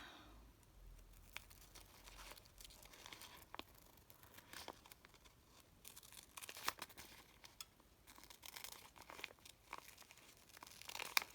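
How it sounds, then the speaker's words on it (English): Scissors snip through steamer seam interfacing for a slow-stitch fabric box, giving quiet, close crinkly cuts and rustles in an irregular patter, with no talking. "just cutting the underlying steamer seam"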